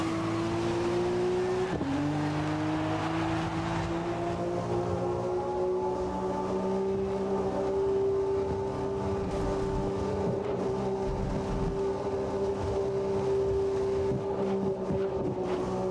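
A car engine drives fast under load, its steady pitch rising slightly and then holding, loud and close throughout with constant road and wind rush and no talk.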